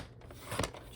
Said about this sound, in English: we can finish cutting this guy out